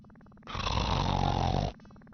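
A man snoring in the Laura Bow 2 video game, one loud, drawn-out snore up close, framed by soft game music before and after.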